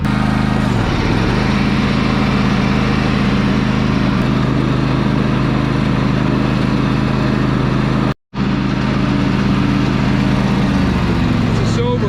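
A small push lawn mower engine runs steadily and loud throughout, warming up on an overgrown rural property, with a brief cutout near the end before it resumes; a voice speaks over it.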